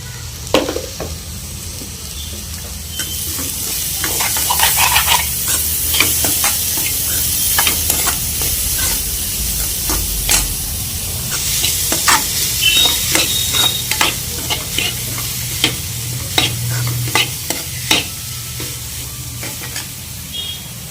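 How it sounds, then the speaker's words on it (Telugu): Grated carrot and fresh coconut curry sizzles loudly in a pan over a low flame while a spoon scrapes and stirs it repeatedly, giving a steady frying hiss broken by rhythmic clinks and scrapes. "మంట సిమ్లో పెట్టుకొని ఒక 5 నిమిషాలు వేపుకోవాలి."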